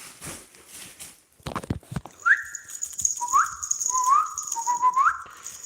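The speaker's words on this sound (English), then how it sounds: "that whistling's not too loud, but I will whistle on occasion to these kitties" A person whistles to cats: a run of short rising and falling whistle notes, close and clear, following a few soft knocks and handling sounds.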